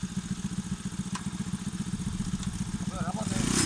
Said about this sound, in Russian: Мотоцикл у меня работает уже 10 лет.